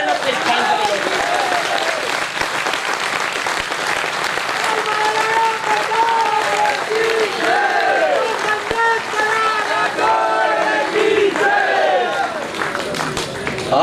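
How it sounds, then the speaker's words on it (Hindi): An audience at a Hindi poetry gathering (kavi sammelan) in a hall claps loudly and steadily, a dense wash of many hands sustained for the whole stretch. "एक बार पूरा सदन आशीर्वाद की तालियां देना अपने स्थान पर।"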